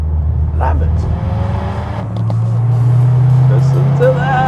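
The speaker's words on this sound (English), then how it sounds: "a rumble, a bassy rumble, and it's so unique and I like it so much." A new Subaru WRX with an aftermarket exhaust idles and revs in a deep bassy rumble that swells louder toward the end, with someone talking over it.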